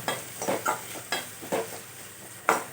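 Onions sautéing in a pan for paneer butter masala, with a low sizzle beneath repeated rhythmic stirring scrapes and taps of a spoon against the pan, close up and without voices.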